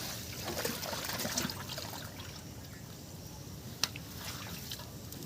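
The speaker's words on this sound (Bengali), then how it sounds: "মাছের জলটা ফেলে দিচ্ছি।" Water trickles and dribbles softly as it is poured off a large snakehead fish being cut for a Bengali curry, a faint continuous stream with one small splash near the end.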